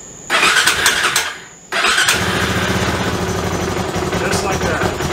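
A 2002 KTM 640 LC4 single-cylinder motorcycle cranked on choke: a first brief starter burst cuts out, then the engine catches and settles into a loud, steady, close idle.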